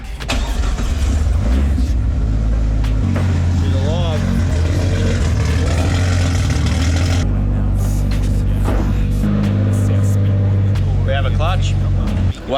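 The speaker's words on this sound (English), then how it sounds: "might start her up and just check the clutch is doing everything it should" A Barra-engined wagon fires up and runs, its engine loud and close with rising revs and blips over a rumbling idle, while people talk nearby.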